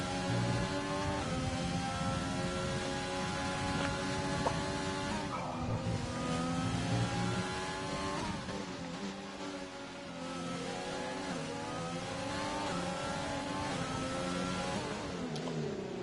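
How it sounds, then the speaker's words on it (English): A Haas F1 race car in a sim racing game at the Hungarian Grand Prix, with a loud, continuous high engine note that rises and falls through gear changes as it accelerates, no voices over it. "look how quickly Victor's able to pull away when he gets the power down"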